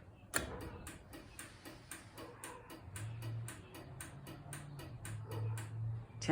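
A Chamberlain garage door opener that won't close clicks in a steady row of about ten sharp, evenly spaced ticks, loud and close, with a low motor hum underneath.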